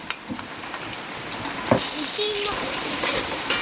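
Ground green chili paste hits a hot pan while making a pickle, producing a steady close sizzle and hiss with scattered crackles and a clank of a utensil.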